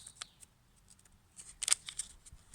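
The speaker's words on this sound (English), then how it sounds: "Okay, so rip open the packet" A paper seed packet torn open by hand, a few faint crinkles and then a short, sharp rip near the middle, quiet and close with no voices.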